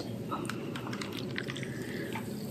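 Clear carbonated soda poured into a half-cup measuring cup over an apple, soft liquid splashing and fizzing with scattered bubbly drips, fairly quiet and steady.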